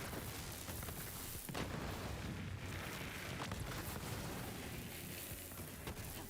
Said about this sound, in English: Lots of bright explosions.